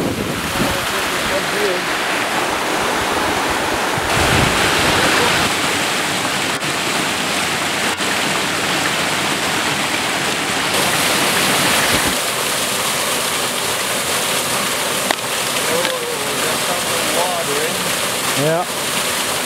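Water rushing down the cascades of Walton Brook, a steady broadband roar close by, with wind buffeting the microphone and a few voices talking over it.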